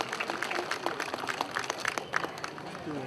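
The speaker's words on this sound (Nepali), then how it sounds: "जोरदार तालीले यहाँले किताबको विमोचन गरिदिनुका लागि म हार्दिक अनुरोध गर्दछु" Audience clapping at a book launch during a Gyalpo Losar celebration with the Prime Minister as chief guest, a moderate scattered patter of hands, somewhat distant, with talk mixed in and an announcer's voice near the end.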